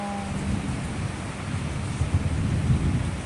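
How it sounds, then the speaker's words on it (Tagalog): Thunder rumbles long and deep over a rainstorm with wind near rice fields during Typhoon Basyang, the rain hissing steadily underneath. "Ay, may kulog."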